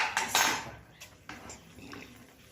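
A spoon stirs and scrapes a sweet sesame mixture with cardamom powder in a metal pan, with clinks and scraping strokes that fade after an initial burst.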